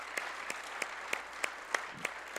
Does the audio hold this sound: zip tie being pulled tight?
no